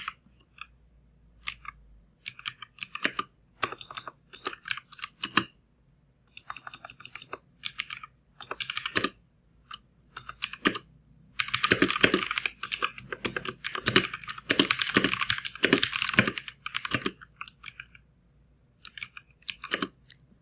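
Computer keyboard typing in bursts of quick, crisp key clicks, close and clear, speeding into a dense flurry midway before thinning to scattered presses, with no voices.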